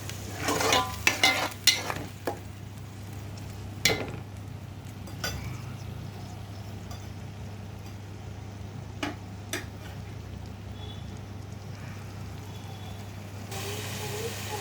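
Chicken curry masala being stirred in a pan, with scattered clinks and scrapes of a spoon against metal over a faint, steady frying sizzle, busier at the start and quieter later.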